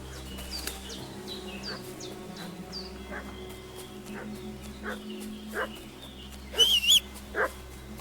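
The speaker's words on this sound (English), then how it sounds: "What's that dog making such a fuss about?" A dog barks and fusses in the video game Kingdom Come: Deliverance II, a few faint, distant yelps and whimpers over a low steady ambient hum, with buzzing insects and a brief sharper cry near the end.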